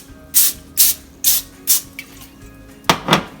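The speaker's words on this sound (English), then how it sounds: "we will put some foil on a baking tray and then spray some butter" Butter cooking spray hitting a foil-lined baking tray in about six short, sharp hissing bursts, evenly paced, with a quick double spray at the end, close and alone.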